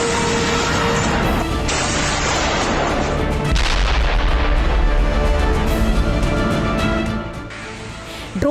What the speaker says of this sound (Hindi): नॉर्थ कोरिया की तोपें गरज रही हैं